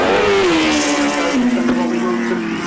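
Grasstrack sidecar outfits rev loudly on the start line before the second heat of the big chairs, a dense sustained engine roar with a slowly falling pitch that fills the whole stretch.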